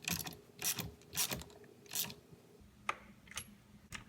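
Steering wheel nut being threaded and tightened on a Pontiac Fiero, a series of short metallic ratcheting and rubbing bursts, close and fairly quiet, with brief pauses between turns.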